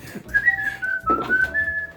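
A melodic whistle, close and clear, holding long sustained notes with brief breaks and a short rustle partway through.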